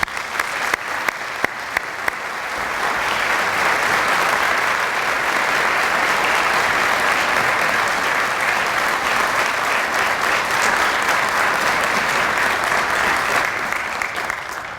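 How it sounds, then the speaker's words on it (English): An audience applauds to welcome speaker Jonathan Holloway at a Founders' Day and Omicron Delta Kappa convocation, a few sharp claps at first swelling into steady, loud clapping that fills the hall and tapers slightly at the end. "Thank you for the applause."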